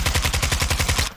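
A 74U submachine gun firing in Modern Warfare 2, a tight, rapid burst of about a dozen sharp shots in just over a second, loud and close, cutting off abruptly.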